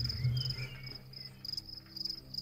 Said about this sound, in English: these crickets are like fierce, rubbing their legs together